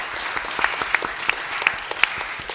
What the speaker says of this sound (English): You can have that applause.